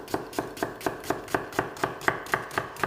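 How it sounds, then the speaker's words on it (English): Onions being finely chopped with a knife on a board, about a dozen crisp, evenly spaced chops close up and at a brisk steady rhythm, no talking. "So I'm going to chop the onions quite fine."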